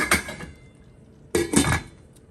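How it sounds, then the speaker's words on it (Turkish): Metal pot lid set down twice on a pot of meat cooking for green bean stew, each a close, bright clank with a short ringing tail, about a second apart. "Kendi suyunu çekinceye dek yine ağzını kapatıyorum."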